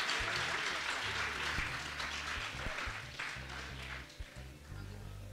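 Audience at a school event applauding, a broad wash of many hands clapping continuously from a crowd that fades slightly toward the end, with faint voices underneath.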